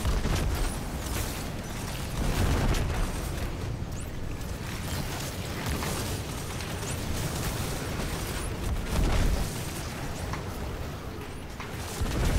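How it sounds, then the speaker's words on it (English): Weapon fire explosions in Destiny 2: Beyond Light, Season of the Chosen, with dense, steady booming and bursting game combat filling the whole stretch and a few louder swells, with no talk over it. "If you hit a precision hit, then the explosion does critical damage too."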